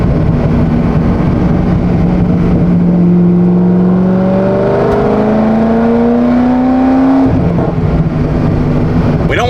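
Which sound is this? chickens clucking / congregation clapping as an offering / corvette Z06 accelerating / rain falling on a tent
corvette Z06 accelerating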